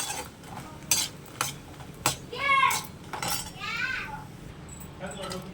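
Phool makhani fried in ghee in a pan for chicken curry, a spatula scraping and clinking against the metal in uneven strokes, with a soft sizzle beneath and a person talking in between.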